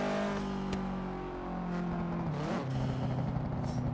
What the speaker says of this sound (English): The crackle and the pops of that Subaru.